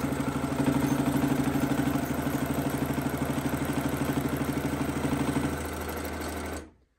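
A quilting machine on a quilt frame sews tack stitches, giving a loud, steady rapid mechanical chatter with a constant motor hum that runs for several seconds and then cuts off abruptly.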